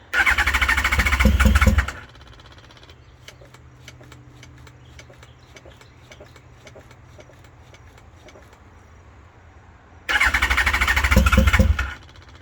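A 2005 Yamaha FZ1 motorcycle engine cranks loudly for about two seconds, then the bike sits quiet with faint clicks before the starter churns loudly again near the end.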